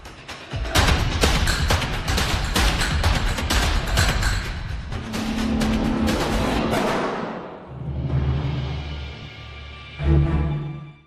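Rapid bursts of gunfire crack repeatedly in a dense, overlapping exchange, then give way to low rumbling booms and a deep thud near the end.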